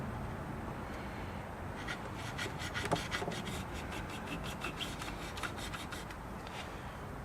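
Folded fabric soaked in rubbing alcohol rubbed against the tension discs of a Singer 290C sewing machine, a faint, steady scratchy rasping in rhythmic strokes throughout, with no talk.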